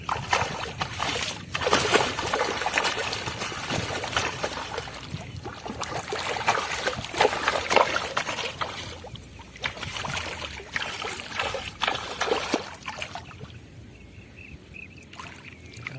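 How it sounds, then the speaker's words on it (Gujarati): A large freshly caught fish thrashes in the water, sending up continuous sloshing and splashing that eases toward the end. "કેટલું તોફાન કરે, કેટલું પાણી ઉડાડે।"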